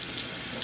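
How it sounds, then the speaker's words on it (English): Hands washed under a running kitchen tap while cooking pasta with mint pesto, a steady close hiss of flowing water splashing into the sink with no talk. "Now I could use a little hand wash in here."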